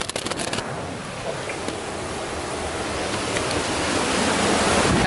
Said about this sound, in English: We just made it back to that main waterfall.